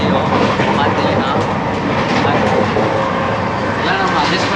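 A North India train runs on rails in a sleeper coach, giving a constant, loud rumble and rattle of the carriage with faint clatter under voices.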